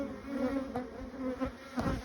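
Honeybees hum in a close, steady buzz at an opened hive colony made as a split from other colonies, with a few louder individual bees passing near.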